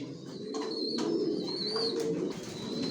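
Racing pigeons coo softly in a loft where pairs sit on eggs, low repeated throaty calls overlapping with faint chirps in the background, continuous and moderately close.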